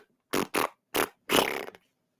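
A human voice imitates fart noises, with three short blats followed by one longer rasping one, loud and close against silence.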